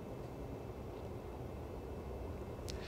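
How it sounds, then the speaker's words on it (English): A steady, quiet whoosh of air comes from the rear exhaust port of a Mac Studio desktop computer's fan. It is a constant broadband hiss with no voices. "There's an exhaust port on the back, and it sounds like this on my Mac Studio."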